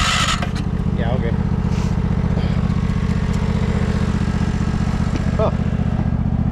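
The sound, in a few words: 1968 John Deere 140 garden tractor engine running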